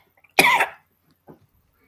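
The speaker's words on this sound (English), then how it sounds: "He immediately starts to cough." One harsh, close cough bursts out after a sip of liquor, followed a moment later by a smaller, quieter cough, then silence.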